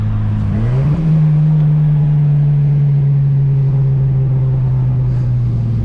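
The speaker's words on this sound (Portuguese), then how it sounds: "Tá um som muito choco porque tá faltando a vela no escape." A car engine revs briefly, then settles into a steady, deep, muffled drone from an exhaust missing a part, loud and close.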